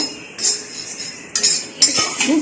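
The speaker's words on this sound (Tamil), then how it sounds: "அரிசி அரிசி நல்லா பொரியுது பாருங்கள்" Rice dry-roasting in a pan for homemade masala powder pops and crackles in a few sharp, bright bursts over a soft, steady background hiss, close and fairly loud.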